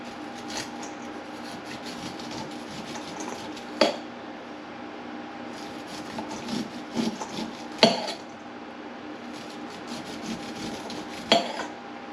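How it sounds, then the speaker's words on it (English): A very sharp knife scrapes down the side of a fresh corn cob in repeated rasping strokes, with sharp knocks against a bowl at intervals, quiet and close with no talking. "we're gonna cut along the side of the cob, removing all the kernels"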